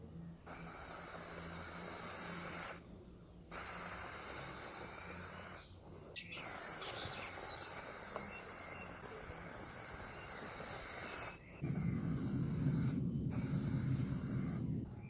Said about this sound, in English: that's the first coat of lacquer on